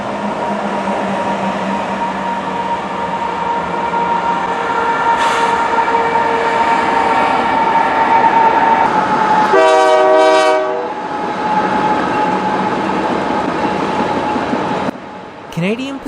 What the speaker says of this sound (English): saw a westbound Canadian Pacific ethanol train as it passed underneath the trail